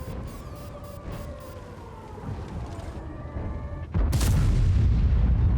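A loud tank cannon blast in World of Tanks, a single sudden boom near the end, preceded by steady engine and ambient rumble with faint mechanical whine.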